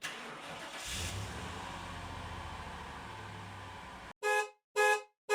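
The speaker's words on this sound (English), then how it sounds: "Car start." A car engine cranks and turns over, settling into a rough running rumble, then stops abruptly before three short, loud horn honks.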